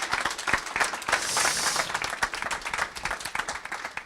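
Audience applause after a team's project presentation at a radio hackathon, scattered individual claps building into a brief burst of crowd clapping that thins out again.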